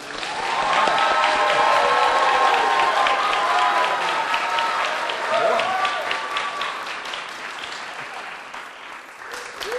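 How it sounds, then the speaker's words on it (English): Audience applause at a family money-makeover finale: a loud, dense wash of clapping from a large crowd that holds steady for most of the stretch before thinning slightly, with voices and cheers mixed in. "Thank you for the round of applause."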